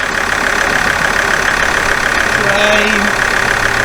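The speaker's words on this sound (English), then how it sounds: "That sounds exactly what a diesel engine should sound like." An Alfa Romeo 159 diesel engine idling loudly and close while warming up, a constant rough rumble with steady knocking texture throughout.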